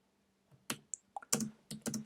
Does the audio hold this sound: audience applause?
no